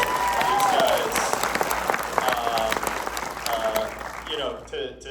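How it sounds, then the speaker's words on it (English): A crowd at a fan expo movie screening breaks into a loud, steady round of applause, with whoops and talking threaded through it before it thins out at the end. "round of applause"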